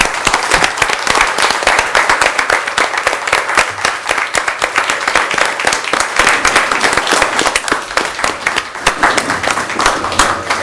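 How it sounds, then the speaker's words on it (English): Audience at a regular city commission meeting applauds, a steady dense wash of many hands clapping that runs loud and unbroken throughout. "Would you please help me give him a round of applause?"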